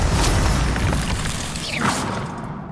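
A Confringo blasting curse in Hogwarts Legacy explodes as a loud, broad, rumbling burst that fills the moment before slowly fading.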